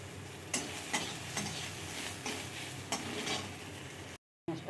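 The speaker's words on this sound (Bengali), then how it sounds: "একটু হালকা ভাজতে দিয়েছি" Chopped onion frying in oil with panch phoron in a pan for a rui fish and potato curry, a steady soft sizzle broken by a few regular stirring scrapes, close and alone.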